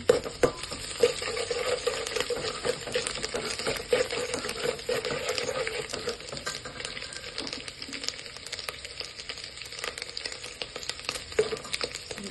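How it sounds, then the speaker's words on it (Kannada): Garlic and ginger frying in oil in a pan for dal fry, a steady close sizzle with stirring scrapes running throughout, no talking. "ಈಗ ಫಸ್ಟು ಬೆಳ್ಳುಳ್ಳಿ ಶುಂಠಿ ಹಾಕ್ಕೊಳ್ಳೋಣ. ನಿಮಿಷ ಹಂಗೆ ಫ್ರೈ ಮಾಡ್ಕೊಳ್ಳಿ."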